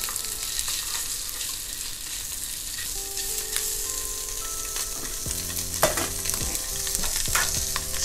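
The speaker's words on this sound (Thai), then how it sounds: "ก็เอาไส้กรอกลงไปเลยจ้ะ" Sausages sizzle steadily in a frying pan beside fried eggs during a Turkish breakfast, with a constant moderate crackle, scattered sharp pops and faint tonal clinks of stirring partway through.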